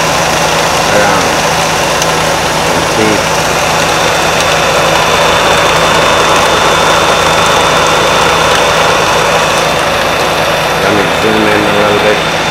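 A wood router runs at 10,000 RPM, geared down to spin an axial flux wind alternator. It gives a loud, steady motorized whine and hum with tonal lines throughout, and brief faint voices come through at moments.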